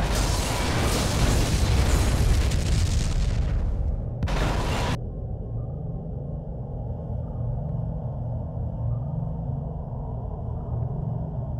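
A Borg vessel explodes in the Star Trek: Legacy space combat game: a loud, broad blast rolls for about four seconds, then a short sharp burst follows, leaving a low steady engine hum that continues alone.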